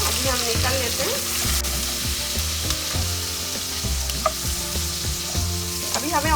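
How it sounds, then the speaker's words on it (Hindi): Shrimp frying in hot oil, a loud continuous sizzle with regular rhythmic tapping and scraping over a steady low hum, close and without talk. "श्रिम्प हमें ज़्यादा फ्राई नहीं करना है, जस्ट 2 मिनट फ्राई करना है।"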